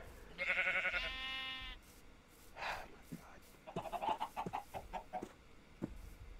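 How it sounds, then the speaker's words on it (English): Sheep bleating in Minecraft, a few drawn-out nasal bleats early on, followed by a quick run of choppy, clucking game sounds, fairly close and moderately loud. "that is an asshole of a sheep"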